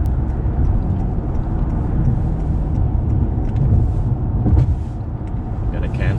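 A 2018 Honda Accord engine and road noise fill the cabin with a steady, broadband rumble while the car accelerates on the road, a continuous drone that swells slightly near the end.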